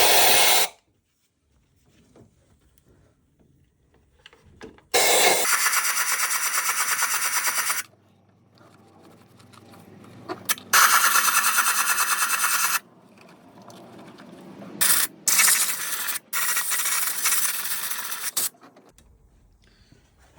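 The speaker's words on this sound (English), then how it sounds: "take a cloth and air compressor" Compressed air blasts clean the engine bay of a Vauxhall/Opel petrol engine during rocker cover gasket replacement, with several loud, sustained hissing bursts of varying length separated by quiet gaps, close up with no talk.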